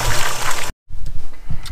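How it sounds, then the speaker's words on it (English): Water gushes and splashes from the outlet pipe of a newly installed well pump irrigation setup, loud and close, cutting out briefly before resuming with a gurgling trickle. "There's water coming out."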